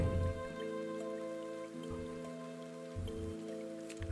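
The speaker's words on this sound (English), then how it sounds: "So now it's raining." Rain falls steadily in a video game, a continuous soft patter running beneath sustained tonal game music throughout.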